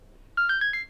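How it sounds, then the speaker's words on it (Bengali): A phone ringtone for an incoming call, four short bright electronic tones in quick succession, clear and close against a quiet room. "মনে হয় ফোন আসছে"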